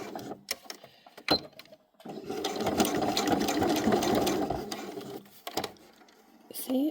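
A sewing machine stitches small upcycled silk patches in a steady burst of rapid whirring mechanical stitching, with short starts and stops before and after. Someone talks nearby between runs.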